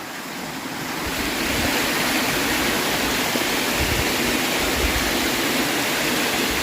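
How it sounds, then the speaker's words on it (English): A waterfall met while backpacking on a long trail, a loud, continuous broadband roar that swells in over the first second and then holds steady, with no voices. "Looks like we came to a waterfalls."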